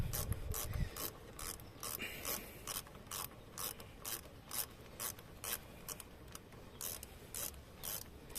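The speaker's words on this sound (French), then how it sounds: "avec une clé, avec une douille de 10 et un cliquet" A hand ratchet with a 10 mm socket loosens a bolt on a 1.6 HDI engine's oil cooler, giving a steady run of close, crisp clicking strokes in even bursts with no talking.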